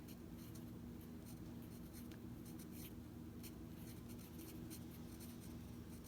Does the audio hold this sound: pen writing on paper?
yes